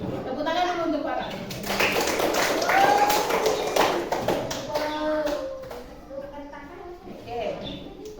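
Class of children clapping hands together in a classroom, a burst of claps rising to a peak and then trailing off, mixed with kids' voices and chatter throughout.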